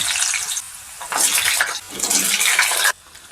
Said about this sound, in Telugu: కడాయిలో 3 టేబుల్ స్పూన్ ఆయిల్ వేసేసుకుందాం. పచ్చిదుంపలు వేపేసుకుందాం.